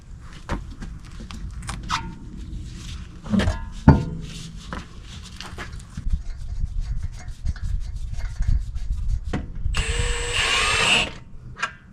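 Metal socket wrench tightening front brake bolts on a Jeep JK, heard as close rubbing, scraping clicks and short ratcheting bursts, with a brighter, louder grinding stretch near the end.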